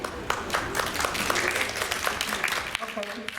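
Guests at a retirement farewell party clapping, a steady mid-level round of applause that thins toward the end as a voice begins speaking.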